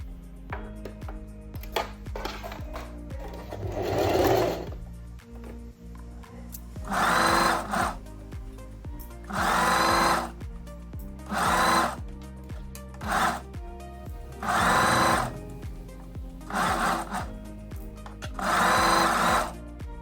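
A sewing machine runs a basting stitch through dress fabric in repeated bursts of steady mechanical whirring, each lasting a second or two, separated by quieter pauses, close and loud.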